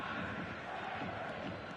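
Stadium crowd of football fans in the eFootball video game, a dense steady roar of many voices filling the space, loud and continuous without a break.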